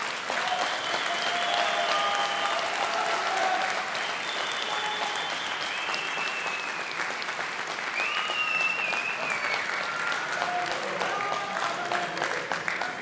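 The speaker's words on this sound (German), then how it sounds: "für diesen Fight gibt es erstmal einen riesen Applaus" An arena crowd applauds after a fight, a steady, dense wash of clapping that holds for the whole stretch, with faint cheers mixed in.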